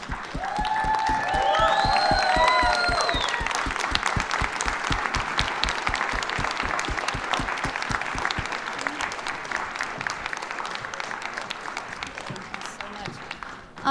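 An audience at a keynote event stands and gives a long round of applause for the panelists, with loud, sustained clapping, a few whistles and cheers early on, and the applause gradually thinning toward the end.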